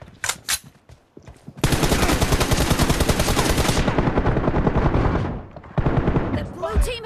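Rapid automatic gunfire from a mobile shooter game's team deathmatch, a loud sustained burst of several seconds after a few scattered shots, with brief pauses and a voice talking in the gaps.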